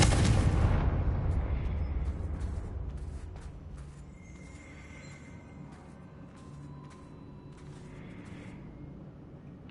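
The Confringo explosive spell in Hogwarts Legacy detonating, one loud booming blast at the start that decays into a fading rumble with faint scattered debris and magical shimmer after.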